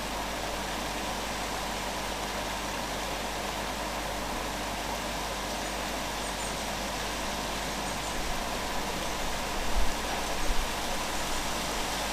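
Steady rain falling outdoors near a garden bird feeder, a dense, even hiss holding for the whole stretch with a few faint knocks near the end.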